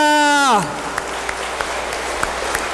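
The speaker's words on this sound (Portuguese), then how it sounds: "Aplauda ao Senhor nessa noite" Church congregation applauding during a service, a short run of scattered claps following a sung note that fades out at the start.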